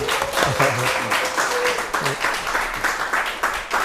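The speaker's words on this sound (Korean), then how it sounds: "우리 박수로 환영하겠습니다." A church congregation claps to welcome a missionary from Uganda, dense and continuous applause filling the hall with some voices mixed in.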